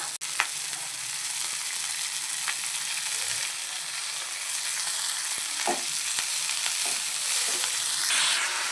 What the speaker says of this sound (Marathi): आणि भाजी आहे ती पण छान आपल्याला परतून घ्यायची आहे, बघू शकता इथे तेलामध्ये.